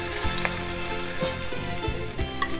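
Veal shanks searing in olive oil for osso buco, a dense close sizzle with crackling pops and occasional tong clicks, no talk over it.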